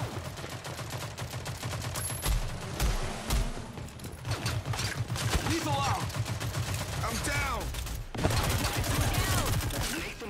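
Rapid pistol gunfire from a non-automatic handgun in the shooter game Rogue Company, dense bursts of sharp shots over continuous game noise and music, with voices talking underneath.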